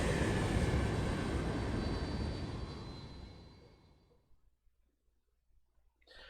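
An airplane's engine roars loudly in the video game Metal Gear Solid 4, then steadily fades away over several seconds, leaving near silence with a few faint sounds.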